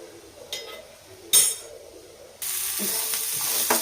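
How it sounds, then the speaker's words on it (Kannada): Curry ingredients for a simple Indian chicken curry frying in a little oil: a few light clinks of utensils in a quiet kitchen, then a sudden steady sizzle that stays loud to the end. "ಸ್ವಲ್ಪ ಆಯಿಲ್ನ ಆ್ಯಡ್ ಮಾಡಿಕೊಂಡು ಹುರಿತಾ ಇದ್ದೀನಿ"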